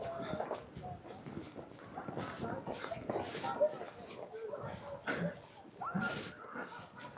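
Sled dogs being hitched one by one to a sled for a snowy dog-sledding ride yip, whimper and bark in busy, overlapping bursts beneath steady talking nearby.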